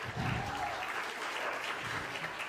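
Wedding reception guests applaud in a hall, producing a steady wash of clapping that sounds fairly soft and distant throughout.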